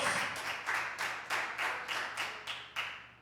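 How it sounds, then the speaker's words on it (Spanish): A church congregation claps in a run of separate bursts, eight or so in quick succession, each sharp and bright, with no voices. "De ese aplauso al Cordero de Dios."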